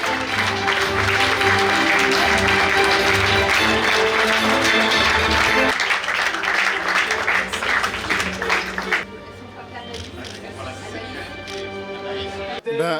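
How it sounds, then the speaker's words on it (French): Audience applause for the winner of a literary prize for a novel, a loud, dense crowd clapping that carries on with music, then thins and fades toward the end. "on les applaudit très très fort"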